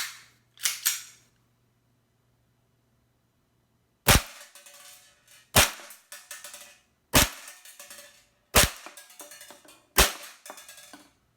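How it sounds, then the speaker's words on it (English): An ICS Korth PRS airsoft pistol running on Valken green gas fires five sharp, close cracks about a second apart, each with a short ringing tail. Two quieter snaps come first, and no one speaks. "now we're going to chrono the Korth PRS by ICS. I'll take 5 shots, about 1 per second."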